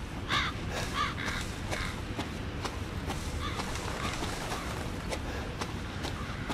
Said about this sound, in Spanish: los cuervos del orto nunca faltan